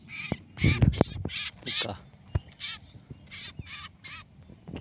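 Three captured kapas kemiri birds give repeated harsh, raspy calls in short bursts, close by, while someone speaks briefly among them.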